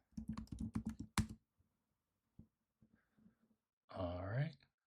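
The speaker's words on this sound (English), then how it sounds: "So I'm just going to type in CMD." Computer keyboard typing in a quick burst of close, crisp key clicks, followed by a few scattered taps and then a short murmured vocal sound.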